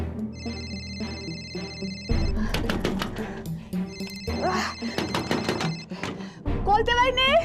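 A telephone rings in a home setting in a Marathi TV serial scene, its bell repeating in two loud bursts separated by a short gap, while people talk loudly over and between the rings.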